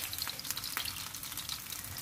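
Sea shrimp balls fry in oil over low heat, giving a steady, close crackle and sizzle with scattered pops and no talking.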